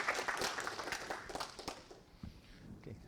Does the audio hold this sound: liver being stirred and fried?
no